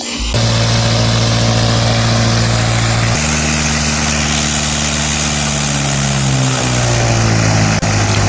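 A Cessna small aircraft engine drones loudly and steadily nearby, its pitch holding then shifting slightly lower toward the end.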